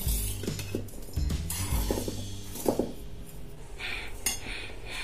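Dry fruits, flour and gond being stirred together in a bowl for gond laddu, a spoon scraping and clinking against the bowl in short irregular bursts, close by with no talk.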